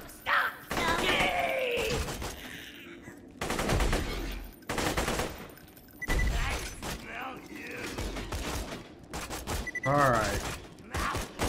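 Gunfire in the video game Borderlands 2 comes in loud, ragged bursts of rapid shots broken by short gaps, with people talking between and over the volleys.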